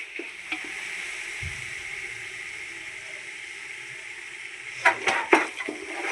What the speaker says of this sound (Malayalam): മസാലകളും മട്ടനും ഒന്ന് സെറ്റായി വരുന്നത് വരെ ഒന്ന് ഇളക്കി കൊടുക്കാം